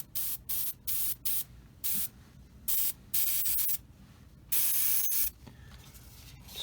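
An Iwata HP-M2 airbrush sprays clear coat onto a 1/35 Tamiya Sd.Kfz. 250/3 Greif model kit, in a series of short hissing bursts that lengthen into two longer sprays near the end.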